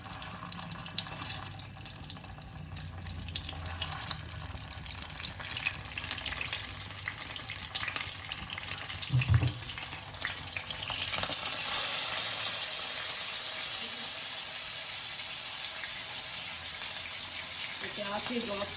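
Steamed chicken steaks dropped into two to three spoonfuls of hot cooking oil start sizzling loudly partway through, then hold a steady bright hiss, with a voice talking over the earlier part.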